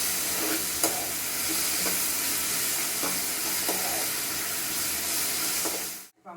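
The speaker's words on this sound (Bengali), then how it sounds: "টমেটোটাকে কিছুক্ষণ ভাজার জন্য এইভাবে নাড়ানাড়ি করতে পারি" Tomato for a date chutney fries in a pan under a constant sizzling hiss, with several light scrapes and taps as it is stirred, before the sound cuts off abruptly.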